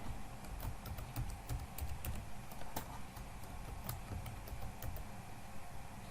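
Rapid, uneven keystrokes on a computer keyboard as a password is entered during an Ubuntu guest OS setup in VMware, with clicks steady and close over a low background hum and no voice.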